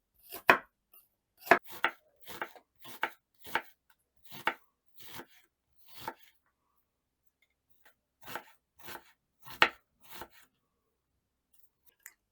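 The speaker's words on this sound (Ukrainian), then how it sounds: "Цибулю поріжу на невеличкі кубики." Knife chopping onion on a board in irregular bursts of sharp chops, with a short pause in the middle, no talking.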